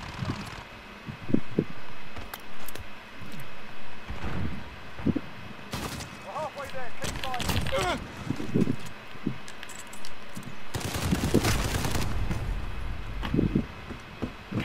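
Shotgun blasts in a Modern Warfare match, several loud sharp shots spread irregularly, with a heavy cluster of firing near the end amid game noise.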